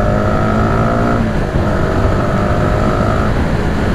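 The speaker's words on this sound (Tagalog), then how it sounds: "Ganda ng tunog, solid ng makina." A Honda Supra GTR 150 underbone motorcycle engine idles steadily and loudly, holding a constant throaty drone with a faint hum running through it.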